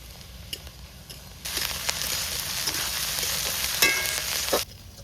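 Ginger-garlic paste is added to onions frying in a pan outdoors in a forest, and after a quiet start a loud, close sizzle bursts up and holds steady with occasional crackles and stirring scrapes.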